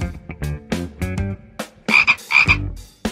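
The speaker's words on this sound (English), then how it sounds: "A frog can leave the water now and live on land." A frog croaks loudly and close, in a run of rhythmic, pulsed croaks followed by a pair of longer, brighter calls, with no other sound around.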